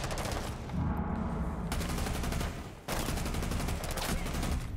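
Sustained rapid automatic gunfire from Thorn's gun in a video game, loud and continuous with a brief dip before resuming at full intensity.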